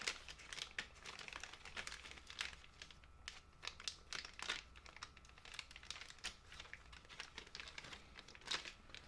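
A plastic beetle trap bag crinkles and rustles quietly as wire hooks are pushed through its holes, soft irregular crackles and clicks close by with no talking.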